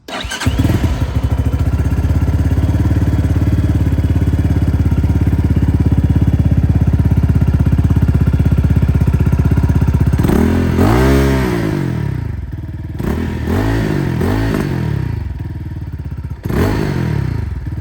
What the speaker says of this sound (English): now let's turn this on so you can get the first sound of your new Venom X22R Max